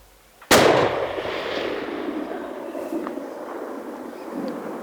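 One loud rifle shot fired at a game animal on a hunt in South Africa's Eastern Cape cracks close by, then rolls and echoes for several seconds across open country.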